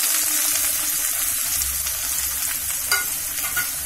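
Finely chopped medium onion and tomato fry in hot oil with a dense, bright sizzle close up, joined by stirring scrapes and a brief clink, with no voices.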